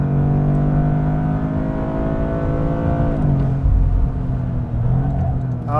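2025 Toyota GR Corolla engine at full throttle on a race track, loud buzzy revs rising steadily, then a gear change and a dip before pulling again.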